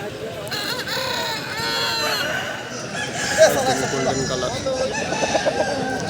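A large poultry market in Bankura, West Bengal, where chickens and roosters cluck and crow steadily in a dense crowd of birds, with people talking among the calls.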